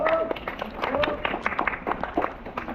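Crowd at an outdoor protest outside an office in Barnsley breaking into applause, an uneven mass of claps with talk and crowd murmur mixed throughout.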